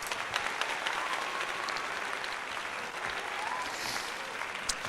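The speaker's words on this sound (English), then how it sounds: "Let's give ourselves a round of applause." Continuous dense applause from a crowd, steady and fairly even, tied to a Philadelphia 76ers at San Antonio Spurs game.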